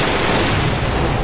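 Dense gunfire from Counter-Strike: Global Offensive deathmatch, a steady loud wash of overlapping shots and bursts filling the whole moment without any clear gaps and with no talking.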